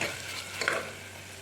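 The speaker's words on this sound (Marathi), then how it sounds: "आता कांदो लसूण आले तळसून जाला" Crushed onion, garlic and ginger sauté in a pan for a chicken masala, a close, steady sizzle with a brief stirring scrape in the middle.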